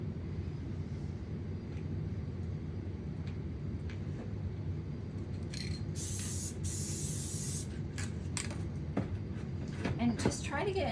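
Short bursts of aerosol spray paint hiss from a can aimed at a mini-sign inside a box, several sprays near the middle over a low steady background, with a person talking nearby.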